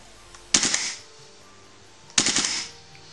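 Two short bursts from a WE SCAR open-bolt gas blowback airsoft rifle on full auto, each a loud rapid rattle of about half a second separated by a pause, close to the microphone with no talking.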